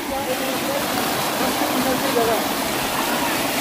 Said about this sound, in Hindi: पानी की जो आवाज है भाई मस्त आ रही है